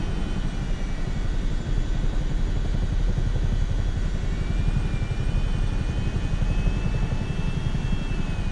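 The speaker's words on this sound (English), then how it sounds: "I think this helicopter has quite low RPM speed." Helicopter engine and rotor in Microsoft Flight Simulator, running at fairly low rotor RPM: a steady, loud, continuous rumbling drone with fine rapid rotor pulsing, holding constant throughout with no talk.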